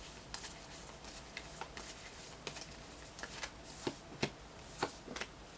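Tarot advice cards are shuffled close by at low volume, a run of quick riffling snaps and soft slaps repeating irregularly, with no voice.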